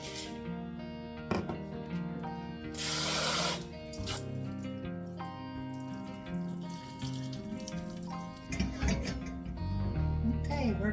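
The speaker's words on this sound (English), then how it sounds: "the first thing we want to do is to rinse our rice" Running water splashes from a tap as rice is rinsed, with irregular pouring and sloshing bursts over a steady, mostly continuous flow.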